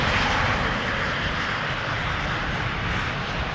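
Embraer 190 jet arriving at Amsterdam Schiphol from Nice, a brief, loud, steady broadband engine roar with no voices over it.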